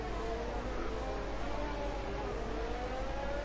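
Formula 1 cars in a racing video game, a McLaren and a Williams among them, with rising engine whines layered in a steady, continuous roar and no talk over it.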